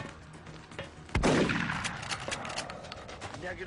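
A soldier fires while moving in the strategy game XCOM, one sharp loud shot with a ringing decay over a busy background of game effects.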